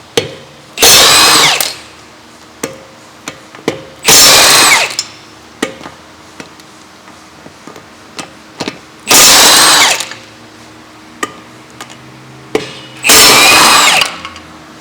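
A power tool removes wheel bolts on a 2016 VW Jetta in four loud, close bursts of rattling impact noise, each about a second long, with scattered clicks and clanks between.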